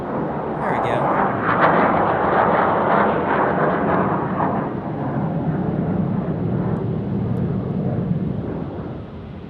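F-16 Viper fighter jets at Tucson International Airport produce a broad, sustained roar that swells and rumbles steadily throughout, heard from a distance outdoors.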